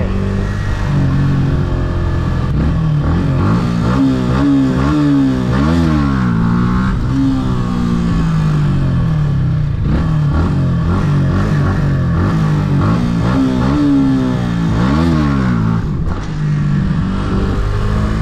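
A Yamaha YZF-R125 motorcycle doing wheelies, its engine loud and close, repeatedly revving up and dropping back in rising and falling sweeps over a steady drone.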